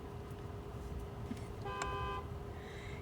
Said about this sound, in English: He just honked his horn with his forehead.